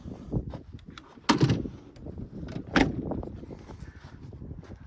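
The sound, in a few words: Vivaro campervan back doors closing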